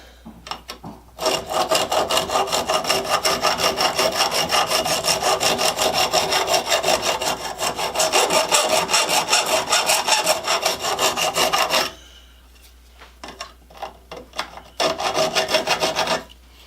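Hand file sharpening a Poulan chainsaw chain: close, rapid rhythmic rasping strokes in a long steady run, then a pause and a few shorter bursts of filing.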